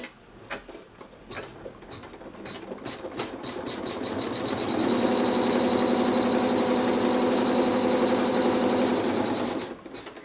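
An embroidery machine stitches a line down on fabric, starting with light ticking, then settling into a steady, loud mechanical whir with a rapid needle rhythm that holds for about five seconds before stopping.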